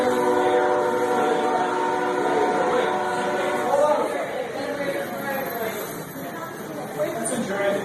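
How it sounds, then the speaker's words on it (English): A coal train rumbles past with strong tonal horn blasts layered over steady rolling noise, loud and continuous, while people chatter in the background. "That's why he blew the horn."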